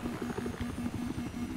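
A helicopter in the video game Battlefield 4 gives off a steady, low rhythmic rotor thump at a moderate level, with no speech over it.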